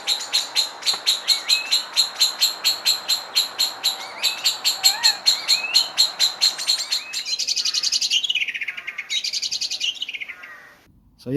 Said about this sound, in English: They're really good at letting you know that there's people around, because they do give off an alarm sound.